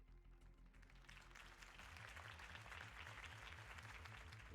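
Crowd applause at a political campaign rally in the video game Batman: The Telltale Series, a soft, distant wash of clapping over a low, humming musical bed.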